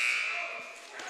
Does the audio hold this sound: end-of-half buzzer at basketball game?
yes